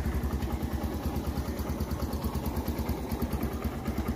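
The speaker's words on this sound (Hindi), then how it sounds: "ये बाइक जो है वो स्टार्ट हो गई।" Motorcycle engine idling steadily just after starting, with a close, even low rumble and a faint ticking clatter throughout, no voices.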